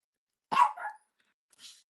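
A pet dog gives a short impatient bark or yip indoors, one clear burst followed by a fainter second sound about a second later, with no talk over it.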